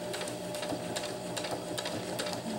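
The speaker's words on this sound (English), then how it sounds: "Now I'm going to make this straight seam this way." A sewing machine runs steadily, stitching a straight seam through hammock fabric, with a continuous close mechanical whir and faint rhythmic ticks throughout.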